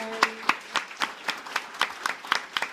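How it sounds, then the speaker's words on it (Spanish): A church congregation claps in a fast, steady rhythm during a Spanish-language service, many hands striking together in regular beats, moderately loud with no talking. "Dale un aplauso fuerte a Jesús."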